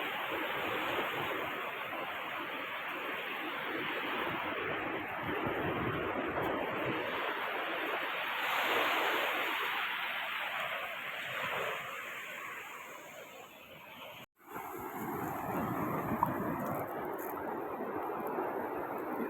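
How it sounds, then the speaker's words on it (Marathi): Sea waves washing over rocks on a quiet beach, a continuous broad rushing surge that swells and eases, steady and fairly near, with a brief dropout near the end and no talking. "ते दगड दगड आलं पाणी आलं"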